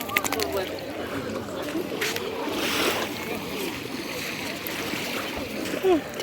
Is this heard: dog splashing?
yes